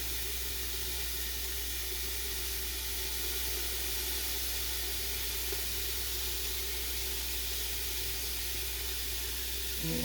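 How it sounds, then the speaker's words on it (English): Cooked meat sizzles in a hot pan while browning for a Zuppa Toscana soup, a steady broadband hiss that stays even and fairly loud throughout without pauses. "I'm just going to add that back into the pan to heat it up, brown it a little bit more"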